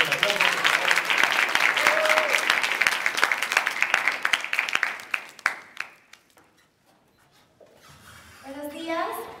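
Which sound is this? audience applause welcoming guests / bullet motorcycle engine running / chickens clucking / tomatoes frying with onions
audience applause welcoming guests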